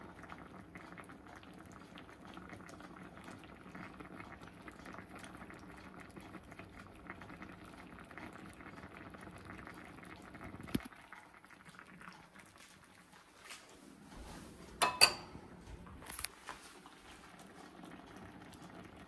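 Food cooks in a covered pot, a steady low bubbling and simmer that runs close for most of the stretch before a pause and a couple of brief clanks, like the lid being handled.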